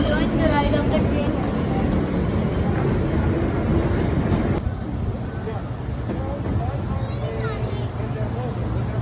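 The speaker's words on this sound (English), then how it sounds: "I'm enjoying the ride of the train." Steady rumble and rattle of a moving train carriage in Manhattan, continuous rolling noise with faint clicks, recorded from inside.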